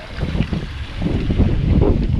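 Gusty wind blows outdoors in Batangas, a loud low rumble buffeting the microphone in uneven surges that build stronger toward the end, with no speech.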